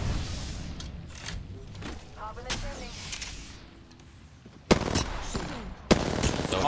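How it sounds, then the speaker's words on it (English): Gunfire in the video game Apex Legends: scattered sharp shots and short bursts over background game noise, with two louder close cracks near the end. "they're shooting at me"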